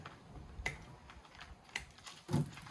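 Plastic zip ties are snipped off with cutters, giving three crisp, close snaps spaced about a second apart over a quiet room.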